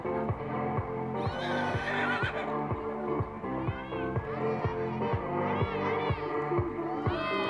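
A pony whinnies repeatedly to other horses at a show-jumping event, its harmonic neighs rising and falling over a loud, busy background with other sounds mixed in.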